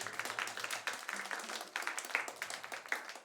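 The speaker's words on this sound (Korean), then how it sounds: "박수 한번 해줘요." Children in a church service clap together, a steady patter of many small hands with quick uneven claps, moderately close, with faint murmuring underneath.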